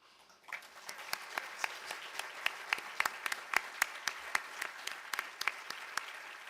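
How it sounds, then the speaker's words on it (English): An audience claps in sustained applause at the end of a panel discussion at a symposium on psychedelic research, rising quickly to a dense, steady patter that fills the room. "So a big round of applause to all of you as well"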